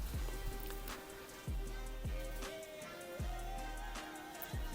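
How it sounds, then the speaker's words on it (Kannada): Heavy rain falling, a dense steady patter on a surface heard alongside periodic tonal chirps, no voices. "ಇವತ್ತು ಇಲ್ಲಿ ತುಂಬ ಮಳೆ ಬರ್ತಿದೆ."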